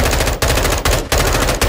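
Automatic gunfire in Call of Duty Modern Warfare II, loud close bursts of rapid shots broken by two or three brief pauses, with no talking over it.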